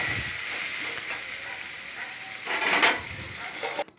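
Papaya curry cooking in a pan with cumin and chilli powder, giving a soft steady sizzle with scraping stir strokes near the end; no speech.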